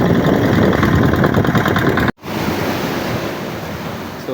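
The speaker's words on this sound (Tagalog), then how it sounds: "Kasi medyo malalaki yung mga alon" Large sea waves roll in after a storm, a loud continuous roar of surf with heavy wind buffeting the microphone, briefly cut by a dropout before the crashing resumes.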